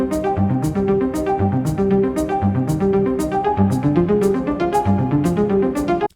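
Piano and a Prophet-5 synthesizer play the same arpeggiator pattern together, one voice an octave below the other, in a dense, steady, continuous stream of rapid repeating notes.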